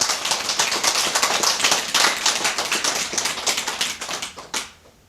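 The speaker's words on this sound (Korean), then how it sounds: "전혀 모두 박수 한번 쳐드릴만 한데." An audience breaks into dense, sustained applause of many hands clapping at once in a hall during a Buddhist dharma talk; the clapping stays loud and even for about four and a half seconds, then tapers off quickly.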